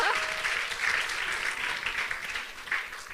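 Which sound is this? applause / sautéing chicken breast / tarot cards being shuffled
applause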